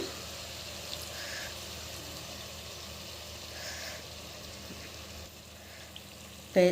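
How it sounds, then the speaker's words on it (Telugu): Steady, faint sizzle of food frying in oil in a pan, a continuous hiss that barely changes over several seconds, with no talking. "ఆయిల్లోనే మంచిగా గోలాలి, చాలాసేపు గోలాలి"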